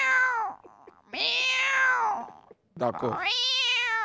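A person imitates a cat, giving two drawn-out, wavering meows close up and loud, with a short spoken word between them.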